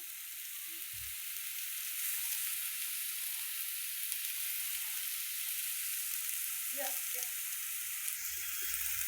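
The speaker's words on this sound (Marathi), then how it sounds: "चांगला मसाला भाजला पाहिजे बरं का." Masala for eggplant curry frying in a pan, giving a steady close hiss of sizzling oil throughout with a few faint clinks and brief soft noises.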